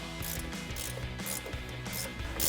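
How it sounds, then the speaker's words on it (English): An 18mm ratcheting wrench tightens a nut on a 2019-2026 Silverado 1500 suspension lift kit, giving fast, faint, rhythmic ratchet clicks in short bursts. "grab your 18mm ratcheting wrench and tighten that down"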